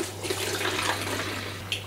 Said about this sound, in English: It's pouring this out without making too much of a mess of it.